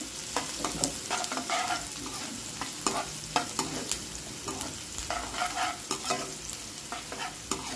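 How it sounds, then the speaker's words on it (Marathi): Onions sizzle steadily in an oil-filled pan for Karnataka-style wet zunka, with soft scraping stirs repeating over the continuous frying hiss and no voices. "तर कांद्याला छान असं परतून घ्या"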